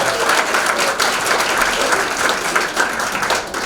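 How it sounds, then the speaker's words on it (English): Steady applause from a comedy club audience, a thick continuous patter of many hands clapping close by, holding at an even level throughout without speech on top. "Slap those palms together for Adam."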